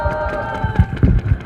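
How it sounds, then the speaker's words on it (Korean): A crowd claps in quick, rhythmic bursts at a union strike-declaration press conference held by school support workers, the applause moderately loud with a faint tonal hum beneath. "힘차게 발언해주신 성지현 지부장 동지에게 다시 한번 박수 부탁드리겠습니다"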